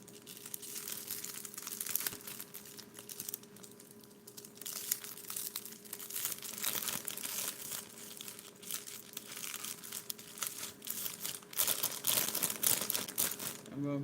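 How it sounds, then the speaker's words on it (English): A plastic bag being wrapped around a gift basket, with steady crinkling and rustling close up throughout and a louder burst of crumpling near the end. "I'm gonna wrap it around."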